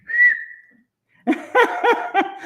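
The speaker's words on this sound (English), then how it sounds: "Whistle while you work." A person whistles a short, clear rising tone, then after a pause gives a quick series of warbling, chirpy whistled notes, close and loud with no speech over it.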